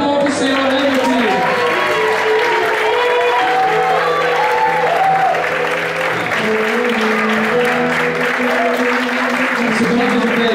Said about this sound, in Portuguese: Dá uma linda salva de palmas para o Senhor